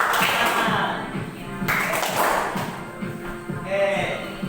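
A group claps hands in loose, repeated bursts, close by, mixed with thumps and shuffling movement while someone speaks over it.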